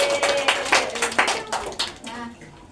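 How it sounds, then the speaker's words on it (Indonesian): A small classroom group gives a short round of applause, a handful of distinct claps close by with voices talking over them. "Kita berikan tepuk tangan."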